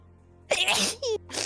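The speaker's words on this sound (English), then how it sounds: "You sneeze like a girl." A single sharp sneeze bursts out close by after a quiet moment, followed by a brief vocal sound.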